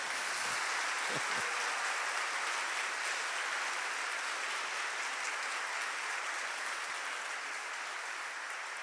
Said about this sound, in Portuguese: Vou dar um aplauso extraordinário para o Senhor.